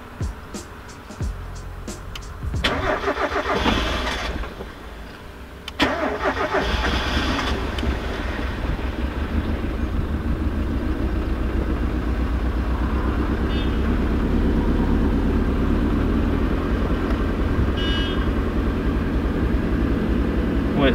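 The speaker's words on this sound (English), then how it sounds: "And then we can go ahead and start the car." Turbocharged Mazda MX5 engine cranks with a few short bursts, then catches and settles into a steady, loud idle that runs on continuously.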